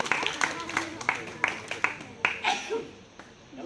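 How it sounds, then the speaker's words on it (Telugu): A school audience at a science magic show claps in a run of distinct, rhythmic claps rather than a dense roar, and a voice speaks over part of it. "గట్టిగా క్లాప్స్."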